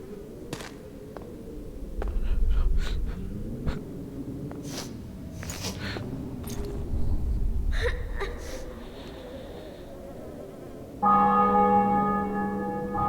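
Church bells toll in a medieval city taken by storm in The Witcher 2, a sustained ringing tone that swells in near the end over a low murmur of breathing and scattered clatter, with no speech.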